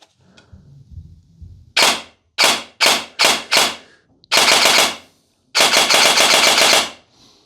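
Cyma MK16 Sport airsoft rifle with a Begadi Core EFCS system on an 11.1 V battery: a faint rustle, then four crisp single shots in quick succession, followed by two loud sustained full-auto bursts, close and dry, with no talking.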